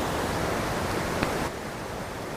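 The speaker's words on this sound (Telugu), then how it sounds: "వెనకాల వాటర్ సౌండ్ చాలా వస్తుంది." Steady background water rush picked up by a wireless lavalier microphone, a continuous dense hiss with no pauses that drops a little in level for the final second.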